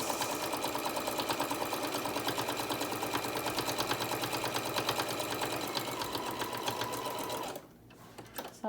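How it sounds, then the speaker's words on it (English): A Singer Modern Quilter sewing machine stitches fast and steadily, its needle chattering in a close, even rhythm for about seven seconds before stopping. "sewing machine, I've had it for probably 4 years, and it is a Singer Modern Quilter"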